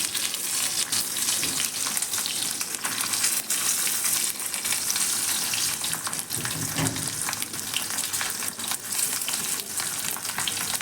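Stuffed bell peppers fry in hot oil with a loud, steady sizzle that never lets up, crackling and spitting close by with no voices over it.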